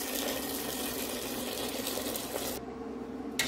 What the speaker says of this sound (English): Then I'll go ahead and add in water.